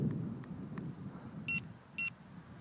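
Two short electronic beeps about half a second apart from a Boosted electric skateboard signaling its power level, sharp and clear over a low background rumble.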